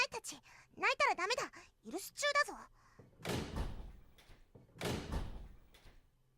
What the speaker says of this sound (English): The one outside began pounding on the door hard.